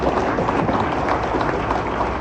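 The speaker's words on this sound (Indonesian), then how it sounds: "Tepuk tangan buat saya." A crowd at a press conference applauds briefly, a short burst of dense, even clapping lasting a couple of seconds.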